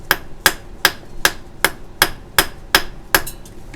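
A hammer smashes inverter IGBT transistors on a workbench, nine sharp, evenly spaced metallic blows about every third of a second, loud and close with nothing else heard.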